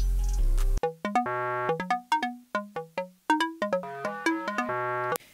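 A square-wave synth plays a plucky, bouncing melody in an FL Studio trap beat, short bright notes with quick decays in a steady rhythm, heard clearly and alone after a brief opening burst.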